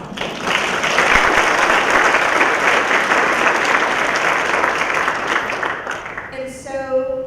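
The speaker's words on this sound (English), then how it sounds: "Would you say that deserves a round of applause?" Sustained audience applause fills a gathering celebrating Earth Day, steady and loud for several seconds before thinning out as a voice resumes near the end.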